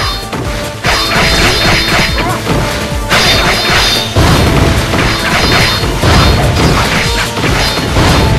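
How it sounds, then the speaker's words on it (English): Heavy booming cannon blasts and crashing impacts from a video game battle repeat in a dense, loud barrage, with rumbling explosions layered over clattering debris and battle noise. "All cannons! Open fire!"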